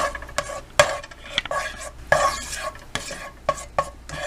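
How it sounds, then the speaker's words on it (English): Butter sizzles in a hot frying pan under repeated scraping and stirring clatter, close and continuous, with no talking. "And when that's sizzling, I'll throw my pie in there."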